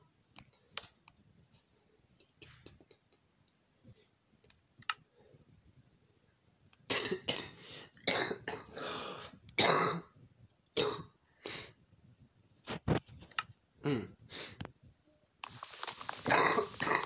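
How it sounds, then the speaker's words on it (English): Someone coughing repeatedly, a run of harsh, bursty coughs and throat clearing after a quiet stretch, close and fairly loud. "No, I can't stop coughing."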